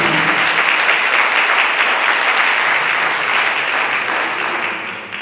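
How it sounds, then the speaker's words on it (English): An audience gives sustained, loud applause for the district spelling bee champions at a 2018 school event, with dense clapping that fades slightly toward the end. "Let's give one final round of applause for our district champions."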